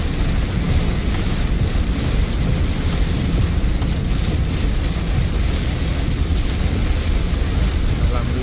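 Steady rain and road roar inside a car driving along the MBZ toll road toward Depok in a heavy downpour, a dense continuous wash of low rumble and hiss with no break across the whole stretch.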